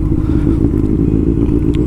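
Motorcycles ride in heavy mountain traffic on the road back from Mukteshwar, a loud, close, continuous engine rumble with a rough, clattering texture.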